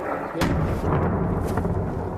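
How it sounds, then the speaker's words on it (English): A deep, heavy boom from a missile strike rolls in from a distance, followed by a low rumbling echo that fills the rest of the moment. "We just heard an enormous explosion here towards the north of where we're standing."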